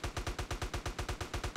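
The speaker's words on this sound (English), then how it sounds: "Let me get the rifle out." Rapid rifle fire aimed at Bigfoot in a video game, about a dozen evenly spaced shots in quick succession, moderately loud with no talking.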